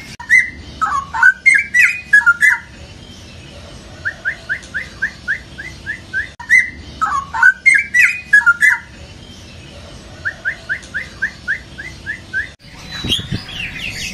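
A pair of white-rumped shamas (murai batu) singing loudly and close, repeating bursts of rich whistled phrases followed by rapid trains of short chips, with a sharp rustle near the end.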